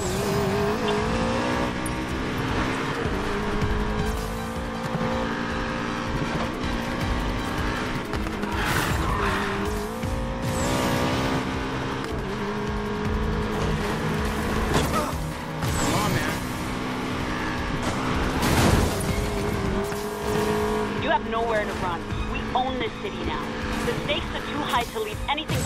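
Racing cars in the Need for Speed Payback video game roar with tires squealing and skidding, a steady loud engine blend that runs throughout under game music and spoken dialogue.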